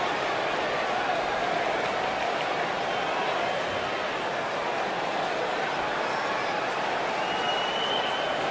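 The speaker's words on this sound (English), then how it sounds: "And Michael, it sounds to me like this crowd already picked the one who they want to win this match." Arena crowd noise from a wrestling match in the video game WWE 2K19: a steady, dense roar of cheering that holds loud and unbroken throughout, with no clear talk above it.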